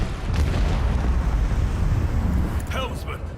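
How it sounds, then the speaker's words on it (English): Heavy booming starship macro cannon blasts in Warhammer 40000: Rogue Trader roll together in a continuous thundering barrage, loud and close, with a voice briefly audible near the end. "I want to hear the macro cannons roar!"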